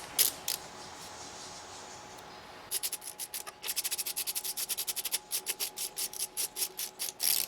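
Ratchet wrench clicking rapidly in short bursts while cylinder head bolts are tightened down on an Opel Astra engine, preceded by a few isolated scrapes and knocks, close and fairly quiet.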